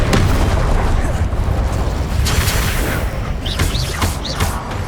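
Fire spells and blasts from combat in Hogwarts Legacy on PS5, a dense continuous roar of booms and bursts with short whooshing zips near the end, loud and sustained throughout.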